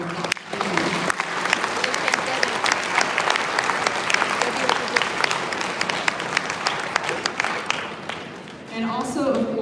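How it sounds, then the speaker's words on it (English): Audience applause at a seventh-grade winter band concert, full, steady clapping from a large crowd with a few sharp claps, tapering off as a voice begins at the end. "So let's give all of those people a big round of applause."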